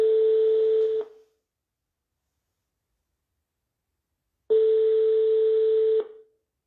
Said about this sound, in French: j'appelle une personne qui a beaucoup appelé